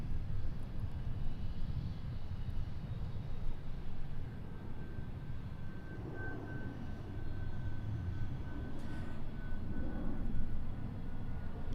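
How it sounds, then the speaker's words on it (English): A UPS Boeing 757 departing Boeing Field produces a continuous rumbling jet roar with a thin whine above it, holding moderately strong and building slightly toward the end, with nobody speaking. "So here's our UPS 757 flight here. They are headed off"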